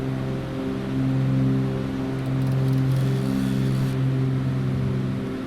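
Simulated Cessna 310R twin piston engines droning steadily in a flight simulator, a constant low multi-tone hum with a slight swell in loudness partway through, no voices.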